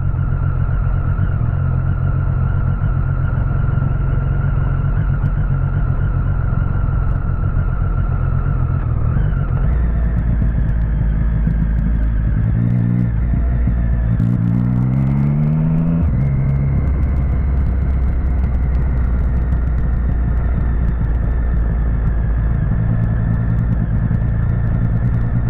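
A motorcycle engine drones on a downhill ride through Atlantic Forest scenery, a steady loud rumble with a brief shift in engine tone midway and constant wind-like road noise throughout.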